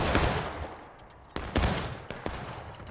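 Volleys of musket fire crackle in War of Rights during a Yankee defense at Harper's Ferry, with a dense wash of shots followed by several sharp nearer reports spaced across a few seconds.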